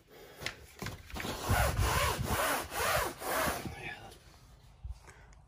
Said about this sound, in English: All right, we gave it a good scrub,